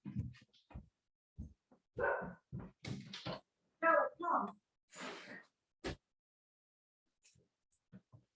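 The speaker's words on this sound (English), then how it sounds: "let my dog in, who is barking to come in and listen as well" A dog barks repeatedly to be let in, in short, uneven bursts separated by quiet gaps, sounding somewhat muffled and close by indoors.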